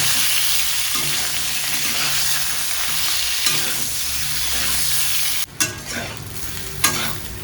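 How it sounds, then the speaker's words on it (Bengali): Raw banana pieces and a green chili fry in a pan for a Bengali fish curry, a steady close sizzle with stirring scrapes and a few sharp clatters near the end. "এবার এর মধ্যে আমি দিয়ে দেবো কিছু কাঁচা কলা আর একটা কাঁচা লঙ্কা। এবার ভালো করে এগুলোকে একটু ভেজে নেব।"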